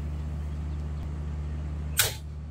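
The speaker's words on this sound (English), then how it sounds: "That's the sound of an arrow going right into Bunjinator here." A crossbow arrow strikes a target with one sharp, loud impact crack, then a short decay over a steady background hum.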